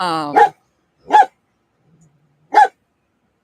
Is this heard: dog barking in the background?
yes